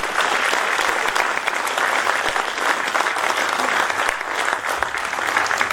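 An audience at a Hindi comic poetry gathering in Ahmedabad claps steadily and loudly throughout, a dense continuous applause without breaks.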